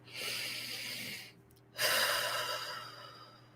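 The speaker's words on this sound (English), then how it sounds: "let's just take a deep breath together" A deep breath taken together during a relaxation moment in an interview, heard as a long, soft inhale, a brief pause, then a fuller exhale, close and clear with no talking.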